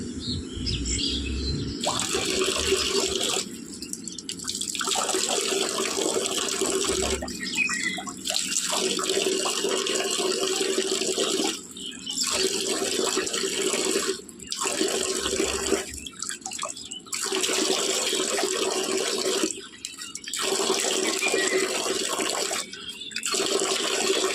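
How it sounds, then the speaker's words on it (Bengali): Tap water runs and splashes as hands are washed for wudu, a loud near rushing stream broken by several brief pauses, with faint bird chirps behind it and no talking. "হাত ধোয়া হয়ে গেল"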